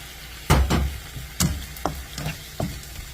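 Chicken gizzards stir-fried with ginger in a pan, four or five distinct scraping strokes of a spatula spaced about half a second apart over a soft sizzle, close and moderately loud.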